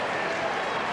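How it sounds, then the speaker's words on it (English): Dense, steady applause from the crowd at a 2004 Cincinnati tennis semifinal between Agassi and Roddick, a brief uniform wash of clapping with no pauses. "And Agassi applauding."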